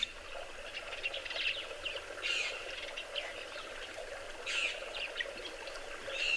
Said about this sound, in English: listening to the bird calls.